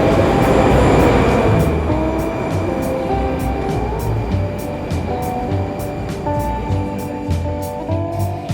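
A Moscow metro train runs loud and close, its deep rumble overlaid with sustained metallic whining tones and a regular ticking of wheels over rail joints.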